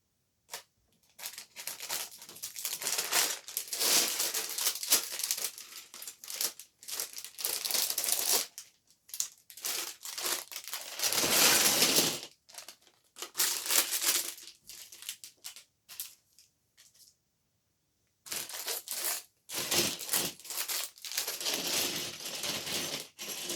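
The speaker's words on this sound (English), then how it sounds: "So as I've opened bag number 4, inside we also have 2 small bags of Lego pieces" Small plastic bags of Lego pieces for the Star Wars 75316 Mandalorian Starfighter set are handled and opened, with loud, close crinkling and rustling in bursts and a short pause near the end.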